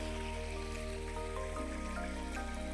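Irrigation water from a pumped motor flowing into a farm field, a steady trickling and gurgling wash over a constant motor hum that shifts pitch partway through, continuous without talk.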